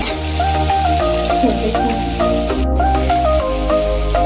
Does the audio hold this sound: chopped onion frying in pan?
yes